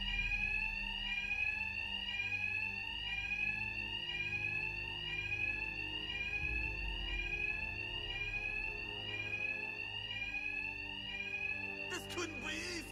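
In the video game Batman Arkham Knight, a facility alarm rings steadily: a loud, repeating electronic siren tone cycles evenly throughout, with a low hum underneath and a brief burst of noise near the end.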